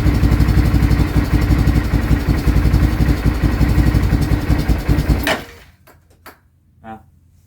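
Small engine with a centrifugal clutch and variator belt idling loud and steady with a rapid, even putter, then cutting off abruptly, leaving a few faint clicks and knocks.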